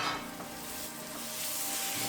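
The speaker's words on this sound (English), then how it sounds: "they are starting to sizzle at this point" Steady close sizzling of aromatics frying in a pan for a lentil soup, with a faint scrape of stirring and no voices.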